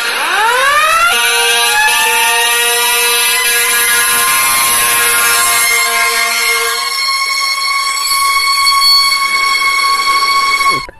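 A loud electronic toy fire truck siren sweeps up and then holds steady, wailing continuously for about ten seconds before cutting off abruptly.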